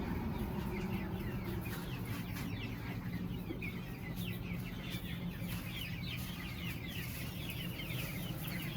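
A flock of Sonali chickens on a poultry farm clucks continuously, many overlapping calls forming a busy, steady chatter at moderate distance over a constant background hum.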